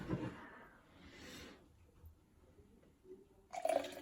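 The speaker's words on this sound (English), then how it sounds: "Pour it in a glass." Beer pours and splashes into a small glass with a soft, bubbling gush that fades, then a brighter burst of pouring near the end.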